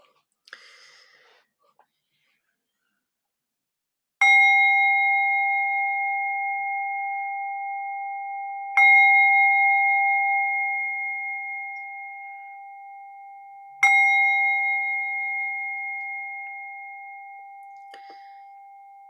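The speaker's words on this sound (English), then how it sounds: "I would like to invite us all to settle into our chairs for a brief meditation as I ring this bell" Three separate strikes of a meditation bell, each a clear ringing tone that decays slowly over several seconds before the next, with a soft whisper-like breath before the first strike and in the quiet gaps.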